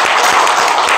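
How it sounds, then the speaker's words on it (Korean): A church congregation at a Sunday service claps in welcome, a dense, loud, steady wash of applause from many hands filling the room. "우리 잠깐 일어나서 박수로 좀 환영을 해 주시겠습니까?"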